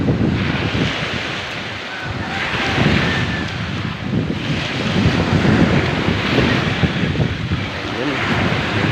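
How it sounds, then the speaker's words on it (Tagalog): Steady wash of ocean surf with gusting wind buffeting the microphone, a continuous broad roar without pauses. "Hindi na ganong kalakihan yung mga alon, hindi na katulad ng mga nakakara."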